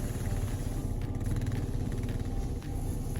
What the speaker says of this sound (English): to have some fun on the four-wheeler